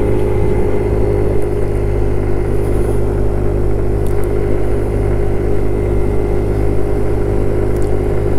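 Kymco Agility 50 scooter engine droning steadily while riding, a loud, constant mid-pitched motor hum with wind rush, running on fairly old gas with a suspected carburetor or belt issue, no talk over it.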